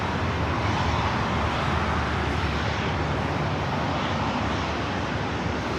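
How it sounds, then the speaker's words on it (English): A United Express Embraer E175LR regional jet arrives at LAX from Arcata, a loud, steady broadband jet roar with no talk. "United Express, flight 5341, coming in from Arcata, an"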